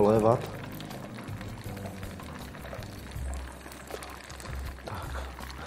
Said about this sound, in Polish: Żeby sandacz naprawdę cały nasiąknął klarowanym masłem, musimy go polewać.